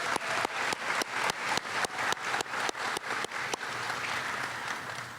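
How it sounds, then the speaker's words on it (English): An honors ceremony audience claps in a series of sharp, evenly spaced bursts that settle into a dense, steady round of applause, near and moderately loud. "Let's give them a round of applause."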